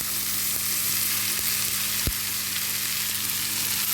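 Corn kernels hit a hot pan of onion and garlic and sizzle loudly and steadily from up close. A single sharp clink stands out midway.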